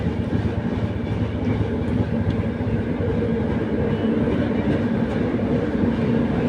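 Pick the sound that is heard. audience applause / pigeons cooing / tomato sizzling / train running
train running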